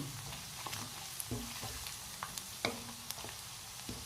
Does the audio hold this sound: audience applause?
no